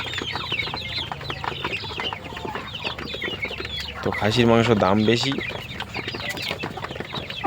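Desi chickens cluck nearby on a poultry farm while a person talks, with one louder, drawn-out cackle rising partway through.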